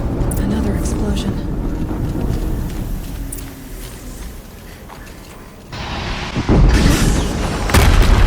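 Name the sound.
explosion in video game Horizon Zero Dawn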